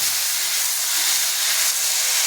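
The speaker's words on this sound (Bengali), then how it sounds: "এবার আমি টমেটো বাটাটা দিয়ে দিলাম" Tomato paste hits a hot pan of ginger and spices for a vegetarian papad curry, producing a loud, steady, close hiss of sizzling with no talking.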